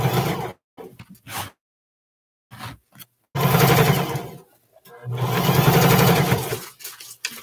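A sewing machine back stitches while sewing short pants: short bursts of fast, close mechanical whirring separated by pauses, then two longer steady runs.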